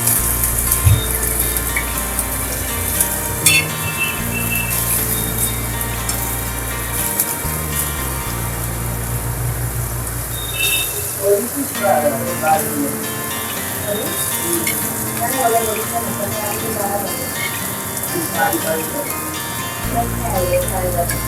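Elephant foot yam slices frying in oil in a pan, a steady crackling sizzle running throughout beneath a person talking.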